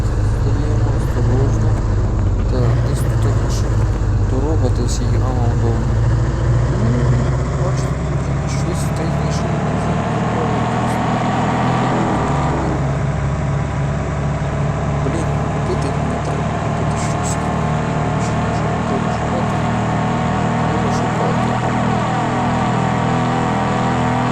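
A car engine starts and drives in the video game The Long Way, revving up at first, then settling into a loud, continuous drone with someone talking over it.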